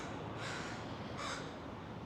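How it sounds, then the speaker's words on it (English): Two loud, harsh caws from a crow close by on a city street at Columbia and West First Avenue in Vancouver, spaced about a second apart over a steady background wash of outdoor noise. "Hey Crow, good to see you."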